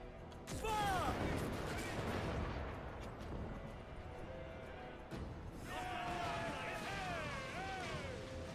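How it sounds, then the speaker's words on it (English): Mortar artillery fire in a video game rumbles as a heavy, sustained explosive roar with crashing debris, overlaid by descending whistling tones and game voice chatter throughout. "Brace! Mortar incoming!"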